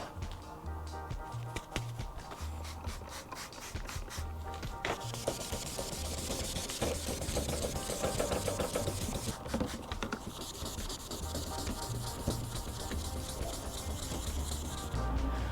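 Fine 3000-grit sandpaper rubbing across a car headlight lens, a steady close scratching and rubbing texture that continues throughout with no talking.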